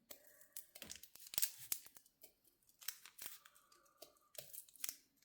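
Scissors snipping through paper for layered junk-journal poppy flowers: a quick, irregular series of close, crisp cuts and crinkles, with no one talking.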